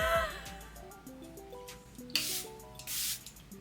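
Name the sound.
Charlotte Tilbury Airbrush Flawless Setting Spray being sprayed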